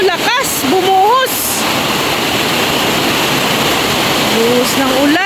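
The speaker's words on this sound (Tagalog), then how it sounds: "Buhos ng ulan." A heavy rain downpour pours steadily during house plastering work near barracks, a dense continuous rushing hiss throughout, with a voice talking over it at the start and end.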